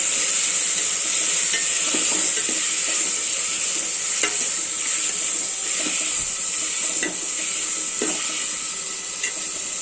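Beef curry with tomatoes and salt being stirred in a pan, a constant loud sizzle with intermittent scraping strokes of the spoon every second or two, no talking.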